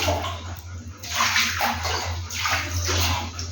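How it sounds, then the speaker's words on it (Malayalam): Water poured down a bathroom drain to flush away a spider, a rushing splash in repeated surges with sloshing over a steady low hum, no speech. "നമുക്ക് ഇനി ഡ്രൈനേജിലേക്ക് ഒഴുക്കി കളയാം ഗൈസ്"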